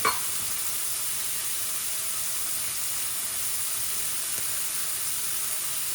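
Beef for stroganoff searing in a hot pan, giving a steady, even sizzle and hiss that runs unbroken throughout after a brief sharper burst at the start, with no voices.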